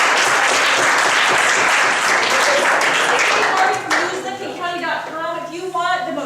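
An audience bursts into loud, sustained applause at a community gathering, a dense wash of clapping that thins and fades toward the end as a voice begins speaking.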